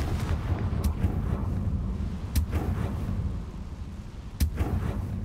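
A fiery spell explosion in the Hogwarts Legacy video game sounds as a deep rumbling boom over a low, continuous roar, with a few sharper cracks scattered through it.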